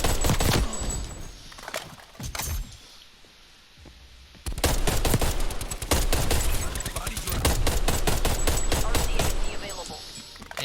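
Rapid bursts of gunfire from a Type 63 rifle and a pistol in Call of Duty: Black Ops Cold War multiplayer, loud and dense with dozens of sharp shots in clustered volleys, a quieter gap in the middle, then sustained firing resuming.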